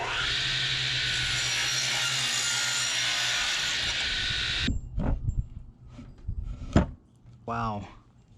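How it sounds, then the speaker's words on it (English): A wooden tenon is cut shorter with a continuous rasping saw that runs steadily for about five seconds and then stops, followed by knocks from the wood being handled and a voice talking. "I'm gonna take this back out and we're gonna cut the tenon here a little bit"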